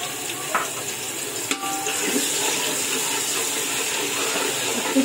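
Green masala fries in a large quantity of hot oil for chicken dum biryani, a loud, steady sizzle throughout, with a couple of stirring clinks near the start.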